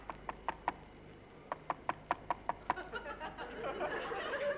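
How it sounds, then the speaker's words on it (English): A radio comedy sound effect of peculiar knocking on an aeroplane windscreen: a quick run of about a dozen sharp, evenly spaced raps, close and crisp, fading into a rushing noise at the end. "There's a peculiar knocking sound on the windscreen."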